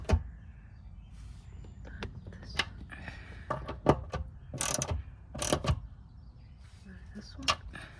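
A ratchet tightens the fuel filter bolts on a 2010 Mercedes-Benz E350 (W212), giving close, irregular bursts of clicking with short pauses between them over a quiet background.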